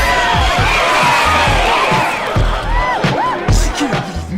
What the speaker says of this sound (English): You will see and hear people cheer for you when you land a move